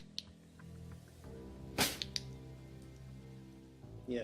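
Acetone peroxide igniting: a single sharp crack, like a small burst igniting, stands out over a quiet low hum, followed by a couple of faint ticks and a soft thump.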